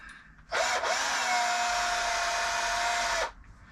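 A power drill drives screws during boat maintenance, one steady loud whir lasting about three seconds with a clear start and stop and no talking.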